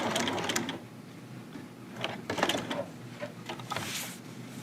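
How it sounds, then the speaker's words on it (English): A home sewing machine stitches the corner of a zipper bag on a short reinforcement stitch, with bursts of rapid mechanical whirring separated by short pauses, close and clear. "I'm going to drop my stitch length down to reinforcement until I get to 5/8."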